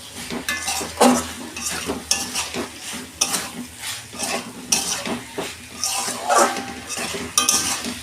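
Vegetables (stem drumsticks, potato and eggplant) tossed into a fish curry sizzle in a hot pan while a spoon stirs and scrapes repeatedly against the metal, close and lively.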